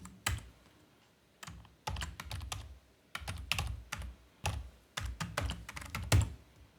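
Keys clatter on a computer keyboard as an admin password is entered for a Palo Alto VM-Series firewall, in short, uneven bursts of close, quiet typing with brief gaps between.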